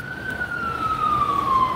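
An emergency vehicle siren wails outside, a single long tone sliding slowly downward as it passes, steady and fairly loud over a low rumble of traffic.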